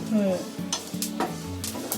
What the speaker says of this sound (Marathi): आता हे खोबरा आहे ना थोडा कलर येईपर्यंत भाजायचा